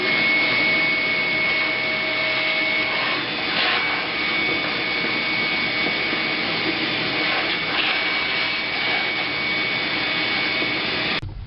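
A vacuum cleaner runs steadily and loudly while it cleans out a Kalamazoo Model 2 tube amp: one unbroken, close roar with no voices, cutting off abruptly at the end.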